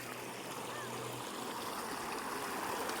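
A river stream flows steadily at a campsite in Antipolo, a continuous broadband wash of running water with no clear breaks.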